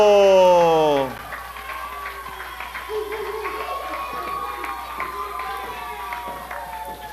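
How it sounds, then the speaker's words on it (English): A wrestling crowd applauds the match winner, a broad wash of clapping and cheering that follows a loud sustained tone. The crowd noise rolls on steadily at a moderate level. "Let's have a big round of applause for TJ Steele."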